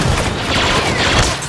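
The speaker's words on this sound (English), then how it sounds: "This is one thing I love about Boba Fett, this rocket." Boba Fett's wrist rocket firing in Star Wars Battlefront 2, a dense roaring whoosh and blast that stays loud and sustained through the whole moment amid chaotic battle noise.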